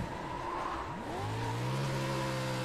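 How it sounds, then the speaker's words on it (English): A stadium truck drifts hard in the iRacing sim, its engine revving up in a rising, steady tone with tire noise underneath, loud and close with no voices. "full on speed drift"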